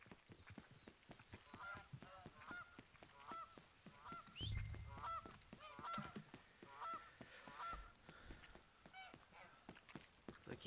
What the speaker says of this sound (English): The geese are quite loud today.